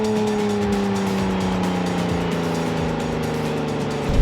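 A Porsche 987 Spyder with a manual gearbox pulls away: a loud, close engine drone rises and falls as it is driven off, with a brief louder burst at the end.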